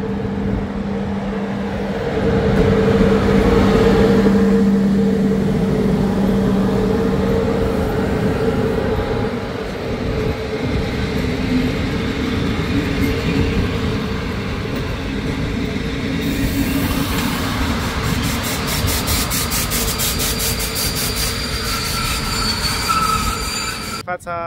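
An Interregio passenger train pulls into Vatra Dornei Băi station, its loud rumble steady and close, wheels squealing and clattering as it slows toward a stop.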